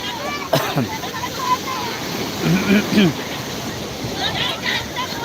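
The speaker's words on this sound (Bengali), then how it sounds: "কখনও আছড়ে পড়ছে বিশাল বড় বড় আকৃতির ঢেউ পর্যটকের উপর" Rough, high-tide waves roll and crash at Digha beach, a broad surging roar with wind noise, while people's voices are heard nearby over it.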